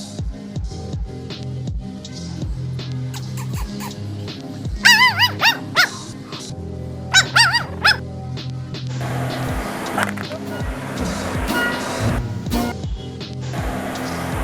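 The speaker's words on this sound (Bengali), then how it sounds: "একটি কুকুর তা দেখে সারা রাত করলো ঘেউ ঘেউ" A dog in a Bengali film barks through the night, giving two short bursts of high yelping barks and whines over a low background of music and ambience.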